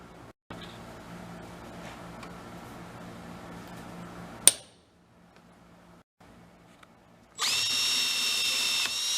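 A power drill boring a hole beside a broken bolt on a large Craftsman machine, a steady close whir that stops with a sharp clank, then a louder, harsher burst of drilling.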